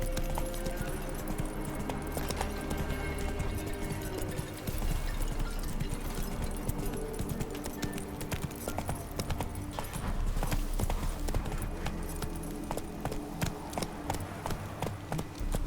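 Hooves of a horse clop rapidly and steadily throughout in The Witcher 3: Wild Hunt, layered over continuous game ambience and music without a break.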